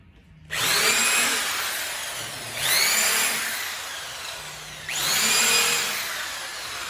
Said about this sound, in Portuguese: Aí eu venho com a broquinha para escariar.